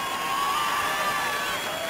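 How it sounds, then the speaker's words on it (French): A crowd at a hip hop show in Lille applauds and cheers the Karim Brothers, a dense, steady wash of clapping and shouting, fairly loud and continuous. "Les Karim Brothers qu'on applaudit très fort"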